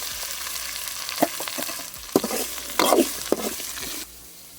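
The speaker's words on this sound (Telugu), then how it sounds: "ఎర్రగడ్డ వేసుకుందాం." Sliced onion frying in oil with curry leaves and green chillies for a chickpea masala, a bright sizzle broken by several loud spatula scrapes and clatters, then quieting at the end; no one speaks.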